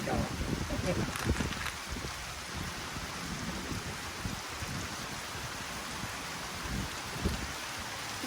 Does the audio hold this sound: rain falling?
yes